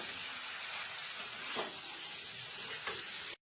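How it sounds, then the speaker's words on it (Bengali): Boiled jackfruit and potato sautéing with spices in hot oil give a dense, continuous close sizzle, with a couple of stirring swells, then the sound stops abruptly; no voices. "এবার এঁচড় আর আলুটা সেদ্ধ করা দিয়ে দেবো। একবার কষাবো ভালো করে।"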